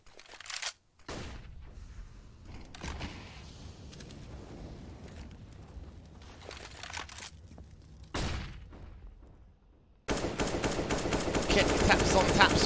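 Rifle gunfire from a Counter-Strike match on Dust 2, rapid sprayed bursts of shots rattling over a commentator's voice, with a brief pause and a single sharp crack before dense, continuous firing takes over at the end.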